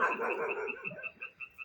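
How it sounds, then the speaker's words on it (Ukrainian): Frogs croak in a rapid, pulsing chorus at night in a southern garden, fairly close, with a brief dog bark faintly in the background. "Жабки квакають"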